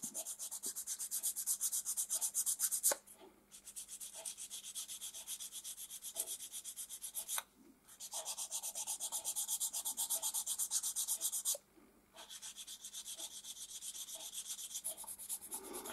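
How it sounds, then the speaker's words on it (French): Sanding a Trumpeter MAZ-537 scale model down to its brass layer, a steady close abrasive rubbing in three long continuous runs separated by brief pauses, with no voices. "on ponce jusqu'à ce qu'on arrive au niveau du laiton"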